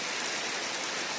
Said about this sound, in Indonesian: terjadi hujan disertai angin yang lumayan kenceng ya